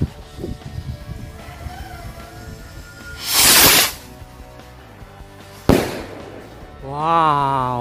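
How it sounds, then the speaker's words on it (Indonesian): A King Rocket jumbo firework whooshes up with a hissing burst, then a sharp bang, followed by a whistling screech rising and falling; no talking. "Ini dia merconnya. Langsung aja kita nyalakan."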